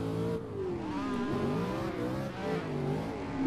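A Toyota Supra A90 drift car's engine in a VR drifting game at Teretonga Park, revving and wavering steadily close by as the pitch rises and falls with throttle through the slide, with no talking.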